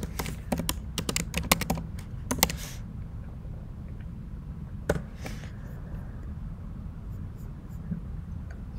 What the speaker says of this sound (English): Now if I type git status